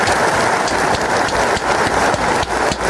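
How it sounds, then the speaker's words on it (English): Dense, loud applause on a podcast set, a brief continuous wash of many hands clapping with no voices over it. "Gotta give her some claps"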